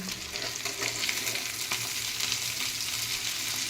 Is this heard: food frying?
yes